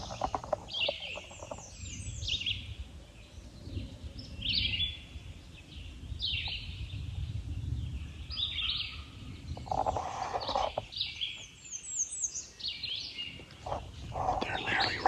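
Wild turkeys in Kentucky Appalachian woods, with repeated bird calls rising out of steady outdoor ambience across the whole stretch, moderately distant and no talking.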